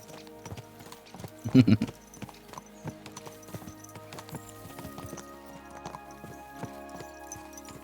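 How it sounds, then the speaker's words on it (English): Horse hooves clip-clop at a steady trot in the medieval role-playing game Kingdom Come: Deliverance II, the rhythm carrying all the way through with a louder cluster of hoofbeats early on, while background music plays underneath. "Let's really spur these horses on, eh?"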